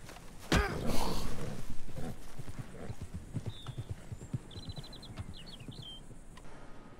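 Steady clip-clop of horse hooves trotting along in a video game, with birds chirping faintly in the background and a brief whinny-like sound near the start.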